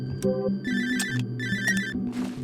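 A phone rings in a disturbing video game about depression, repeating electronic ringtone bursts in a steady rhythm, loud and close over a low droning game ambience.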